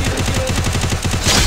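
Rapid bursts of gunfire in a video game, a fast rhythmic volley of shots with a louder blast near the end, close by.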